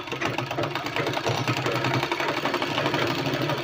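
A sewing machine stitches seams on a kurta for a two-year-old child, a steady close mechanical whirr with rapid needle chatter running throughout without pause.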